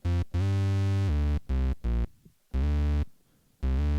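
Raw synth bass from a beat-battle production, before any processing, playing short and sustained notes in a choppy rhythm with brief gaps, loud and dry with no talking.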